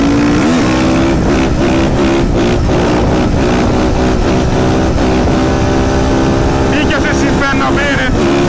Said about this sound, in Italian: questo rettilineo qua adesso lo sfrutteremo bene facendo un confronto con la Verdona di Mitch